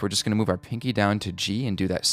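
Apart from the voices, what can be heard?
No everyday noise stands out behind the speech.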